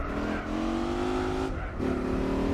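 Race car engine in Gran Turismo 4 on Laguna Seca, revving in steady rising pulls with a brief dip for a gear change before climbing again, loud and up close.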